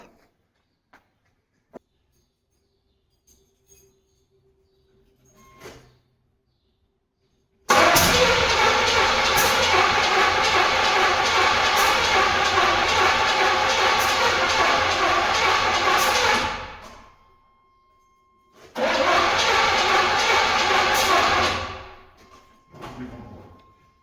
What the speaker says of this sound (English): the engine still won't start